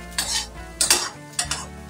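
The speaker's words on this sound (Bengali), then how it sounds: "তো সেই জন্য আমি কিন্তু ভালো করে ভেজে নিচ্ছি।" Stirring flattened rice in a hot pan with a faint sizzle of oil, marked by three scraping bursts of a spatula, close by and moderately loud.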